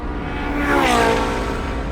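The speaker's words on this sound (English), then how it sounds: "So coming down the front straight here, the amazing sound of this car." A Ferrari 458 Challenge race car engine revs hard on a track's front straight, a loud rising and falling howl that swells in the middle and stays close throughout.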